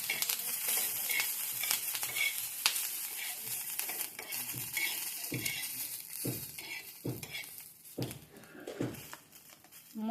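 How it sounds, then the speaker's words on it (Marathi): Garlic and roasted green chillies for thecha sizzle in oil in a pan, a continuous close frying hiss broken by repeated scraping and crushing knocks of a spoon at an irregular rhythm. "लसूण टाकायचं, लसूण आणि थोडीशी तेलाची धार टाकायची"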